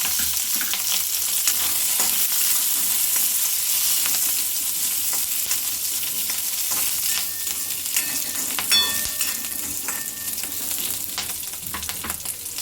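Green chillies frying in hot oil for a thick Madurai-style coconut chutney, a loud continuous crackling sizzle close by, steady throughout with faint stirring underneath and no talk.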